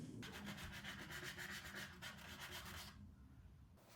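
A plastic spreader fitted with a 5-inch sanding disc rasps rhythmically against dried glue squeeze-out at a wood joint, close and steady for about three seconds before fading to quieter scraping.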